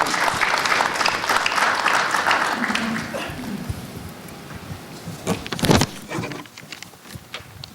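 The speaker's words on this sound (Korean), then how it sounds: "나오실 때 우리 박수로." An audience at a Korean immigrant theology symposium applauds as a pastor comes forward to moderate a panel. Dense clapping fills the hall, then fades into scattered claps, shuffling and footsteps, with a brief loud knock or bump near the end.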